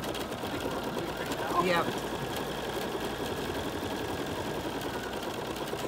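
BERNINA embroidery machine stitching a simple quilting design, giving a steady, continuous mechanical whir close by, with a single short spoken word over it.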